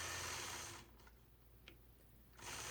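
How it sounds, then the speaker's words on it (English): A sewing machine stitches angular lines while machine quilting a fabric block, a close, steady rapid whirring hum that dips briefly in the middle and then resumes at full speed, with no talking. "I'll repeat that same process, stitching those angular lines on the opposite side of the block."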